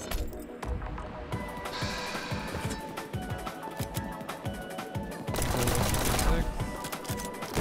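Rapid gunshots in the fast-paced video game Neon White, a string of sharp clicky pops and clinks in bursts under game sounds, with a louder burst near the end.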